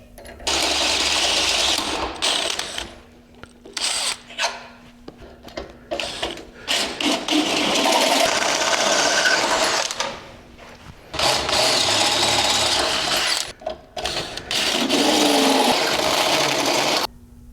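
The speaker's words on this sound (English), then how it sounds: "next is drill it out with an 1 1/4 hole saw" A power drill whines loudly in long bursts as a 1¼-inch hole saw grinds through steel on a Jeep Wrangler JK Rubicon, with short pauses between runs.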